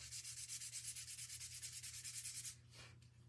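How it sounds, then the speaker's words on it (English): Steady back-and-forth sanding on the edges of a painted pot, a rhythmic rasping scrub close up that slows and thins out near the end, no voices. "I just want to kind of sand the edges of my pot"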